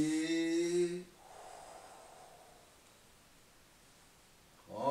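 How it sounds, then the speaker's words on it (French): A long, slow, soft exhale during a Taiji 24 form movement drifts on for several seconds, close and quiet, framed by a brief voice just before and after. "On expire."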